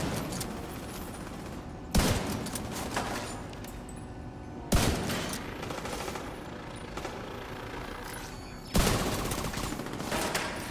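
Gunfire in The Division 2, heard as three sharp loud shots spaced a few seconds apart, each trailing into a long rumbling decay over steady ambient game noise.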